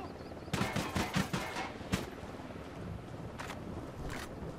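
Gunfire in Tom Clancy's Ghost Recon Wildlands, a rapid burst of several shots followed by single distant cracks spaced apart over background wind.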